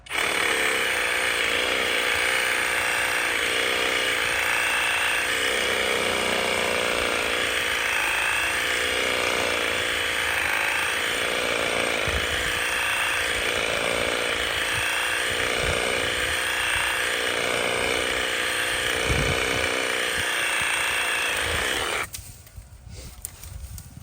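A cordless reciprocating saw with a pruning blade, running on a Dewalt 20 V battery, cuts steadily through a tree branch with a continuous buzzing drone and rhythmic strokes that stop abruptly near the end.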